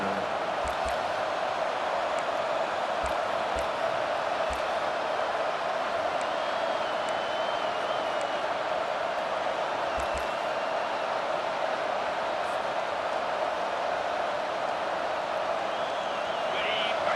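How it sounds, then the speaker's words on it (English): Steady roar of a football stadium crowd at a Georgia at Tennessee rivalry game, a continuous wash of distant massed noise that holds even throughout. "This crowd bringing the energy and noise early."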